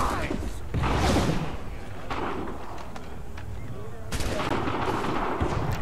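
Musket volleys in Assassin's Creed 3 crack out as loud, broadband bursts, one near the start and another heavier salvo toward the end, with battlefield commotion in between.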